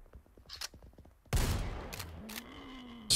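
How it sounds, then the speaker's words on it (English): Shotgun fire in the horror adventure game Project Crypt, a single sharp, loud blast after a stretch of faint clicking, followed by a lingering tail and another burst right at the end. "Shotgun so goes so far"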